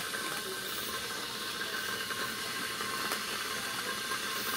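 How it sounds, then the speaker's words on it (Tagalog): Water at a rolling boil, a steady dense hiss and rumble with faint crackling and ticking, continuous and unchanging throughout. "Kumukulo na po yung tubig."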